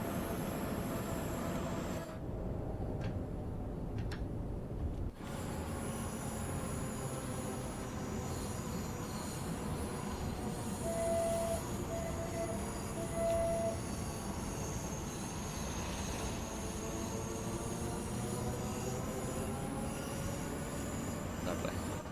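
A London Overground Class 710 train runs on DC third-rail power with a steady rolling rumble and faint wheel squeal, quiet and continuous, with a brief thinning of the noise early on.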